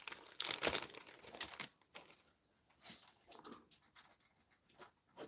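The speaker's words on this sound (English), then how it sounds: "Here's one of the old dogs" An old dog moves around indoors near a fire. Close rustling, crinkling and soft panting come in uneven bursts, loudest at the start, then lighter shuffles.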